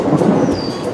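A loud, close rumble of thunder rolling over heavy falling rain, brief and full-bodied, with no voices.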